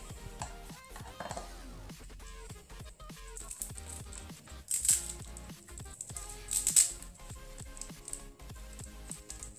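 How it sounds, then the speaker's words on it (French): Scissors snipping and tearing through packing tape on a package of ants, a series of close, quiet crinkly cuts and rustles with a couple of sharper crisp snaps. "je vais prendre les ciseaux et je vais couper le scotch."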